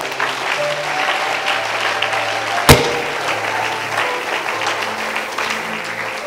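A church congregation applauds the Lord together, a steady wash of dense clapping running throughout at even loudness with one sharp louder crack partway through.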